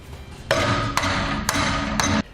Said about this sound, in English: take a hammer to flatten this part out